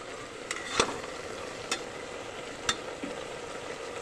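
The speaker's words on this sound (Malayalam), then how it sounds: "കുറച്ച് വെളിച്ചെണ്ണ ഒഴിച്ചു കൊടുക്കുകയാണ്." Soybean and potato masala curry in a pan as coconut oil goes in, a steady close sizzle with a few sharp clinks and scrapes of a utensil, no voices.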